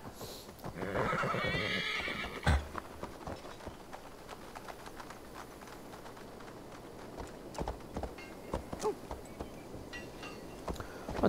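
A horse in Assassin's Creed Valhalla lets out a long whinny near the start, then hooves clop unevenly over steady background ambience for the rest, with a few sharper hits toward the end.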